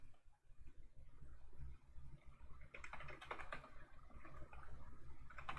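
Rapid typing on a computer keyboard while entering commands in a Linux Mint terminal, a steady run of close, crisp key clicks with brief pauses, growing busier toward the end.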